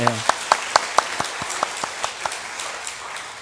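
A church congregation claps in rhythm after a hymn during Sunday worship, with steady, evenly spaced claps that start strong and gradually fade, with a voice briefly heard at the start.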